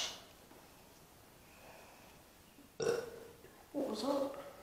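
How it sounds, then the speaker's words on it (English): A short, deep burp breaks a quiet moment in a graveyard at night, followed by a second rumbling belch-like sound, with faint background noise around them. "I burped"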